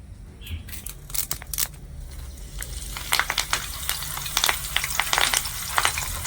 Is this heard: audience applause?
no